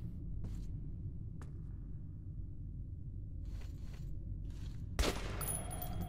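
Dense rumbling gunfire from Metro 2033 Redux, a muffled, continuous fusillade below faint clicks, ending in a sharper close burst.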